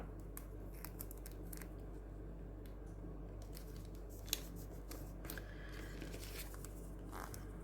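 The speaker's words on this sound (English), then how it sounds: "I don't know why I'm using those scissors because they're blunt." Blunt scissors cutting paper while making a handmade envelope, giving faint, steady snipping and scraping crunches close by, with soft rustling throughout and no talk.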